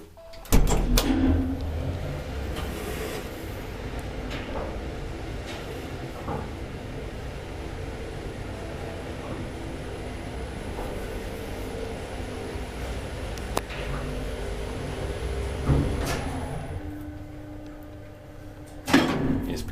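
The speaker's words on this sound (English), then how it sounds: "Door, that's for the door." An old Kone traction elevator in a Swedish apartment building runs with a steady mechanical rumble, with door clunks and sliding sounds near the start and again near the end, close and fairly loud.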